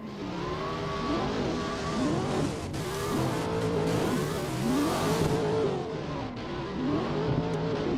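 An RPS13 and a C6 rev hard at a drift competition, their engines rising and falling continuously in loud, overlapping sweeps, with a steady roar and hints of tire noise and no voices over it.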